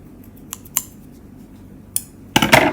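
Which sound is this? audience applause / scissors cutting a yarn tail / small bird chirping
scissors cutting a yarn tail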